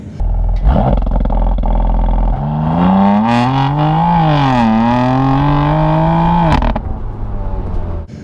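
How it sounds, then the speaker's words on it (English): A BMW M2 Competition in M mode with exhaust flaps open revs loudly up and down, its engine note rising and falling in a long sweep before settling back to a rumbling idle, close and dominant. "once you put it in the M mode, the flaps and the exhaust open"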